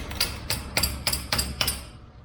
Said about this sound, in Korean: 일단 망치도 가져와 보고 한번 때려볼까?